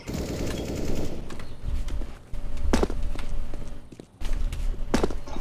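Gunfire and footsteps from a round of the video game CS:GO, with rapid shots and crisp impacts over a steady background of game sound, loud and close with no talking.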